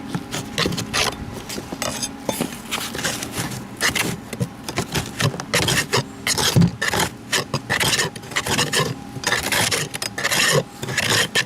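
A hand file rakes scratches out of a Coosa-board boat deck during a deck recore, making rough, repeated rasping strokes in an irregular back-and-forth rhythm, close and fairly loud.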